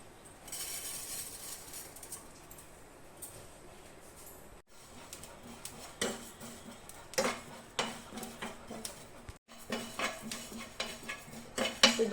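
Whole cumin seeds dry roasting in a pan for dal puri, stirred with a utensil that scrapes and clinks against the metal in a steady run of small knocks, over a faint background hiss; no one speaks.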